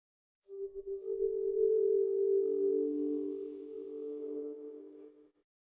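Sonification of a supernova star and its surrounding rings, tracking changes from 1999 to 2003: a smooth, sustained electronic drone of steady pure tones that shift slightly in pitch midway, then fade, heard alone.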